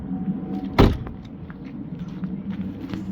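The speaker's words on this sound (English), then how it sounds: "close the door." A car door shuts with a single solid thump near the start, followed by quiet scattered clicks and rustles over a low engine idle, with no one speaking.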